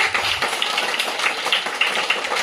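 A group claps hands during an educational running game, with sharp claps repeating in a quick, fairly even rhythm from close by.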